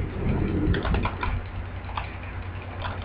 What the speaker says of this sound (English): I'm clicking because I want more stuff.